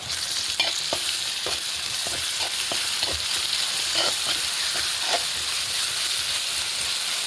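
Ginger garlic paste sautéing in a pan for mutton curry, a bright continuous sizzle up close broken by repeated sharp scrapes and taps of a spatula against the pan.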